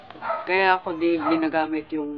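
A dog barks in the background of a room recorded on a sensitive condenser microphone, the barks blending under continuous Tagalog speech for the whole stretch.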